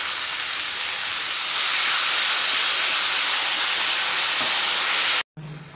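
A tomato and cashew puree with onion sizzles loudly and steadily in a hot pan, a dense continuous hiss that cuts off abruptly near the end.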